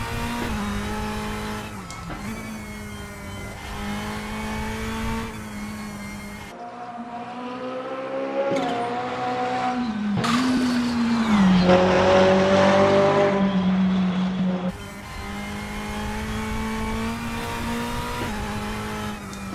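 GT3 race car in the picar3 driving game on a mountain pass, engine droning steadily with pitch rising and falling through gear changes and a stretch of revving tire squeal, loud and constant with no talk.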